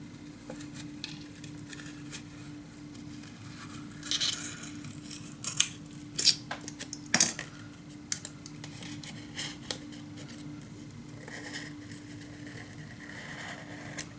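Scissors snip through paper for a scrapbook mini album, several quick close cuts clustered in the middle with quiet gaps between.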